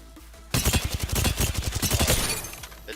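Rapid automatic gunfire from weapons in a video game bursts in suddenly after a quiet start, a loud, close stream of quick shots that trails off slightly toward the end.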